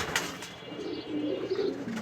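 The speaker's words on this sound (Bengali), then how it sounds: "এইখানে দেখতে পাচ্ছেন এক জোড়া মাক্সি রেসার হোমা কবুতর।" A pair of maxi racer homer pigeons cooing softly nearby in a short run of low, throaty notes.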